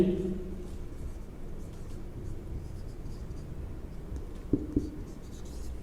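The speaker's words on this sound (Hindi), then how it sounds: "सो पहले लिखते हैं लो कैपेसिटी" Marker or chalk writing on a classroom board during a lesson, soft scratchy strokes with a couple of sharper taps, faint against a quiet room hum.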